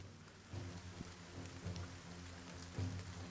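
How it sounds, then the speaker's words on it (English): Steady rain patters in the video game Battle Brothers, a soft continuous hiss with faint low rumbles and a few slightly louder drops, no voices. "I could fall asleep to this rain soundtrack."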